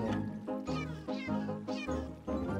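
Cat in Minecraft meowing while being hurt, five or six close, loud, distressed meows in quick succession over background game sound, with no talking.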